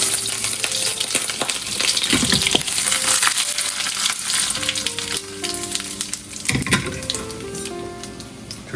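Mustard and cumin seeds sizzle steadily in hot butter in a pan, a continuous close frying hiss with scattered sharp pops and crackles throughout, with no talking over it.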